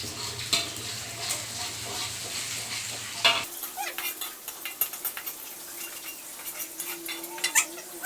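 Onions sizzle and fry in a pan for a Minang-style chicken-feet noodle dish, with a steady crackle, occasional stirring and utensil clinks against the pan close by.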